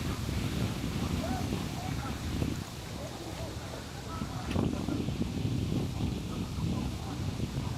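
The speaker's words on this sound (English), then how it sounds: "I don't know how this thing is dealing with the wind today." Wind buffets a DJI Pocket 4 camera microphone in continuous rough rumbling gusts, swelling and easing without pause, in Central Park, Manhattan.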